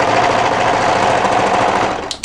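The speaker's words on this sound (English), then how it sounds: "I'm just going to overlock on the edge of that shoulder seam" An overlocker serges the edge of a cardigan shoulder seam in one continuous, loud, close whir that winds down with a couple of small clicks at the end.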